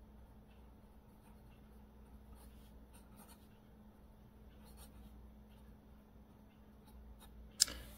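A fountain pen with a 14 karat quill nib writes on paper in a quiet room, a faint soft scratching of strokes over low background hum, ending with a brief sharp click.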